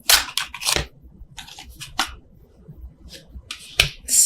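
Tarot cards are shuffled overhand in several quick bursts of crisp slapping and riffling, separated by short pauses and fairly close.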